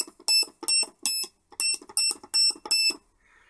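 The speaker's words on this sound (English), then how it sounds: "It beeps with different pitches." A string of short electronic beeps at changing pitches from a CMOS 4511 electronic kit, about eight in quick succession with brief gaps, close and clear against silence.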